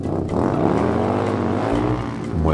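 A toy motorcycle tries to start and drive, producing a buzzing, engine-like whine that holds steady, dips briefly, then rises again, loud and close with no talking.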